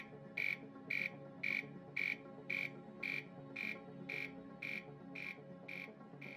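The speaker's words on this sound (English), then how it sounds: "we can reproduce the neutron alarm again" A Thermo Scientific RadEye SPRD-GN radiation detector sounds its neutron alarm: a steady series of short, shrill electronic beeps about twice per second, a dozen pulses in all, over a low background hum.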